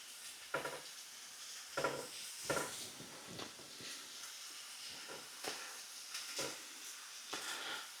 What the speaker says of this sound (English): I'll fry these for about 5 minutes or so